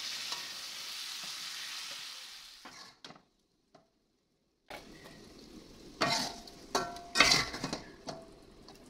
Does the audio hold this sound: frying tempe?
yes